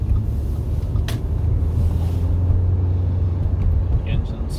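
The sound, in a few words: 2009 Audi A4 engine warming up while driving at night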